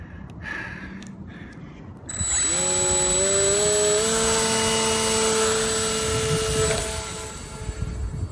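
The electric motor of a scratch-built RC flying wing spools up abruptly for its maiden flight, a loud high whine whose pitch climbs and then holds steady while wind rushes past.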